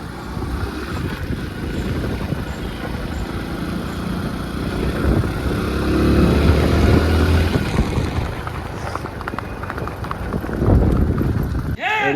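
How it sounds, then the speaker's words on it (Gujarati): Mares racing, their hooves clip-clopping in a fast, continuous rhythm under steady background noise while people talk. "એ વસેરી ઘોડી છે"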